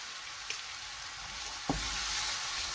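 Turmeric and chili spice paste frying in a pan, a steady close sizzle with a couple of sharp stirring clinks, the sizzle swelling louder after the second clink.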